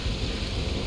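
Steady rain falls in the game Lies of P, in the Malum District, as a dense, even hiss of close, constant noise for about a second, with no voices.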